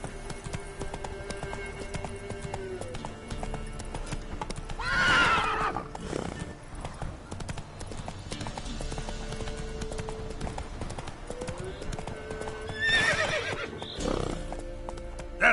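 Horse gallops and neighs in The Witcher 3, its hoofbeats clip-clopping steadily beneath two loud whinnies, one early and one late, amid background game ambience.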